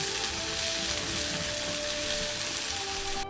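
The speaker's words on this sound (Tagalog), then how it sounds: "Stir fry po natin." Thinly sliced pork is stir-fried in a pan with celery, giving an even, moderately quiet sizzle that holds steady throughout, with no talking.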